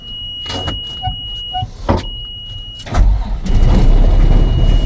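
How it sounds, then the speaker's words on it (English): A car cold-starts: a starter whine and clicks precede the engine catching, then a loud, steady idle rumble takes over close by. "Let's do the old cold start on it."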